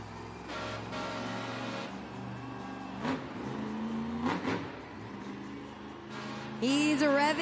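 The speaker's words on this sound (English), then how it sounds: "He's revving that truck" A big monster truck engine rumbles and revs in surges in an arena at a Monster Jam event in Baltimore, loud and sustained, ending in a sharp high whine.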